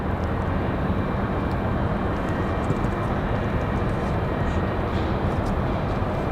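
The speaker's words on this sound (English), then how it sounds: "This Southwest, this Max 8, Southwest 3326 off to Las Vegas" A Southwest Boeing 737 Max 8 departs Raleigh Durham airport for Las Vegas, its engines a steady, broad jet roar heard from a distance without any talk over it.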